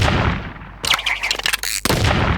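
Gunshots from a gun in the Roblox game Blox Fruit, a quick cluster of sharp, loud cracks fired in rapid succession over about a second, set between denser rumbling game noise.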